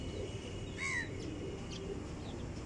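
High-quality flying pigeons coo softly at close range, a short throaty coo rising above a steady low background rumble, with faint chirps nearby.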